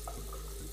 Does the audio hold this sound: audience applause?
no